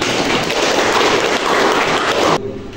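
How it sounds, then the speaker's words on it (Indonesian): Applause in a classroom after a group presentation, a loud, dense burst of many hands clapping close by that cuts off abruptly near the end. "Tepuk tangan."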